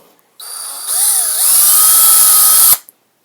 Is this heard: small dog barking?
no